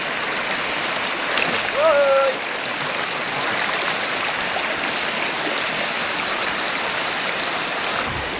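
Steady broadband rush of flowing river water running throughout, with a brief faint tonal chirp early on.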